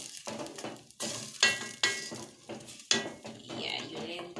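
Blended tomato sauce cooking in a pan for wet fry tilapia, with close clinks of a utensil against the pan and stirring scrapes over a soft sizzle, coming in several bursts with no talk.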